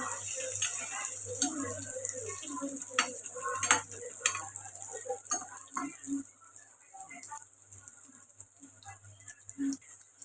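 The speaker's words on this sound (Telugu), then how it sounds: "ఇక్కడ పన్నీర్ అయితే ఫ్రై అయిపోయిందండి" Paneer frying in oil in a pan while being stirred, with a steady sizzle under intermittent scraping and clinking of the spoon against the pan, close and moderately loud.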